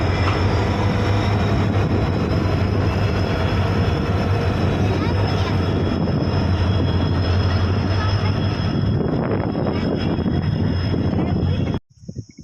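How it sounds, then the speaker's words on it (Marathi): A freight train rumbles past close by at a railway station with a steady heavy roar and wind buffeting the microphone, cutting off abruptly near the end. "हे बघा आता मालगाडी आलेली आहे आपण पाहू शकताय"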